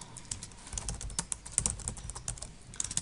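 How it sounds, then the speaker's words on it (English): Quick, light clicks of a computer keyboard as a username and password are typed in, an irregular close patter of keystrokes with no voices. "So I will put my username and password into this service."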